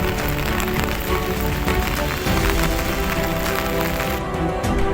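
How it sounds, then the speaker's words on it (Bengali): Heavy rain pours down in a dense, unbroken roar, steady and loud throughout with no voices, during flooding of the Khowai River in Habiganj. "এখনও কিন্তু থেমে থেমে বৃষ্টি হচ্ছে, প্রচণ্ড বৃষ্টি বলতে পারেন।"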